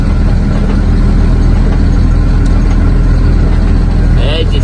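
A loaded truck labours uphill in low gear on a rural dirt road at a passion fruit farm, its engine a steady, loud, continuous drone that dominates throughout without letting up.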